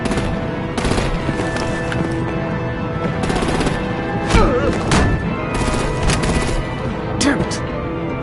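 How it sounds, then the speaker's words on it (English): Gunfire and artillery blasts in a Batman: The Enemy Within game battle, dense rattling shots and heavy booms layered over a constant loud din, with a few sharper bursts standing out and a busy game soundtrack underneath. "Break out the artillery and disable their vehicles!"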